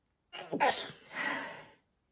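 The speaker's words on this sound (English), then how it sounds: "I'm going to sneeze." A single sneeze, a sharp intake of breath followed by a forceful burst and a trailing exhale, close by and otherwise quiet.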